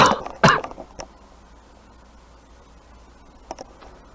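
A man gives a couple of sharp, close coughs at the start, then falls mostly quiet apart from a small throat click and a faint pair of sounds near the end.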